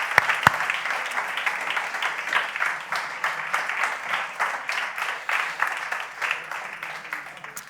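A Spanish-speaking audience at a talk on the type 2 diabetes patient journey applauds steadily, a dense patter of many hands clapping at moderate loudness.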